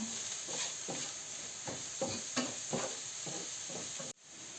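Beans and onion frying in a pan for a Ukrainian lenten pâté, a soft steady sizzle broken by repeated stirring scrapes at an uneven rhythm, close by, ending abruptly.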